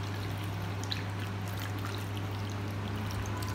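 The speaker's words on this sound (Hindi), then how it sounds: "गुड़ जितना मर्ज़ी लें आप, पानी इसमें डालना स्टार्ट करें।" Water poured onto jaggery makes a steady, continuous stream and trickle, close and fairly loud, running without a break over a low constant hum with no talking.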